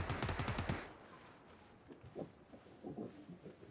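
Rapid bursts of automatic gunfire from the battle royale game PUBG rattle out in a quick rhythmic volley, then fade into faint scattered noises and distant shots.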